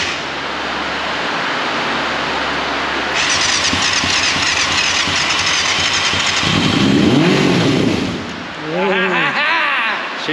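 A 1989 Yamaha FZR600 Genesis motorcycle with an old engine cranks in a workshop, the starter whirring steadily before the engine fires and runs loud and harsh, then revs up and down, with no voices.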